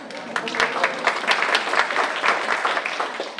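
Audience applause at a book talk, dense and steady clapping from a seated crowd, moderately loud throughout with a few sharper claps standing out.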